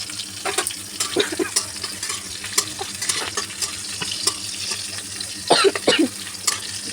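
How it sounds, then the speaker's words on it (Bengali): Green chillies fry with garlic in a pan, giving a steady close sizzle broken by stirring scrapes and a few sharper pops and clatters toward the end. "ভালো করে একটুখানি ভেজে নিই লঙ্কাগুলো।"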